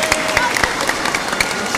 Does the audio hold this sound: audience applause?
yes